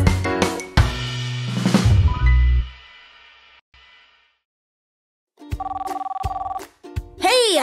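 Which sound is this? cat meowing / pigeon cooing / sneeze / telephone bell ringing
telephone bell ringing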